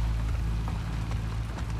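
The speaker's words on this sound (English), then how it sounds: "I think it's a good thing it's raining" Steady rain falling in the video game The Last of Us Part II, a continuous wash of drops with a low rumbling bed, with no voices over it.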